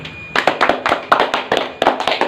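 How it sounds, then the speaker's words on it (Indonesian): Students in a microteaching classroom lesson on the human circulatory system applaud a classmate's answer with a short, brisk burst of close, crisp claps in uneven rhythm. "Tepuk tangan dulu."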